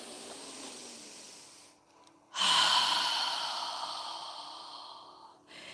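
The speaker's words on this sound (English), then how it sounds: "breathing through our nose, inhaling through our nose, and exhaling with our mouth open" Deep breathing during a yoga session: a long nasal inhale, a short pause, then a louder, sustained open-mouth exhale with a breathy hiss, close to the mic with no talking.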